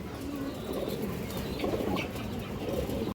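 Green-necked pigeons at a pigeon seller's coop cooing softly with bursts of wing flapping, a steady murmur of birds close by throughout.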